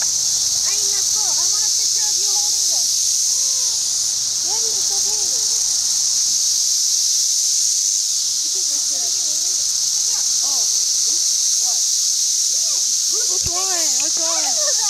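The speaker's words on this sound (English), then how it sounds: "All these cicadas are freaking me out." Dense outdoor chorus of cicadas holding a steady high-pitched buzz throughout, with children chattering and chirping voices over it.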